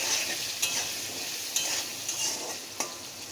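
Potatoes frying in a pan with salt and a little turmeric powder, a steady close sizzle broken by a few sharp scraping stirs, with no talking.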